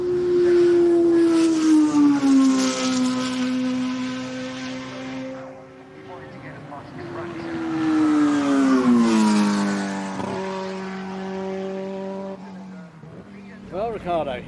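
A Brabham BMW BT52 turbo Formula 1 car on a demonstration run at the Goodwood members meeting screams past loud and near. Its engine note sweeps high, then drops, then rises again on a second surge before fading.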